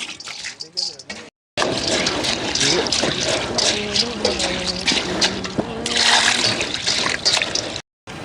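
Water splashes and swishes steadily as basmati rice is rinsed and stirred, with a brief pause partway through; a voice speaks faintly in the background.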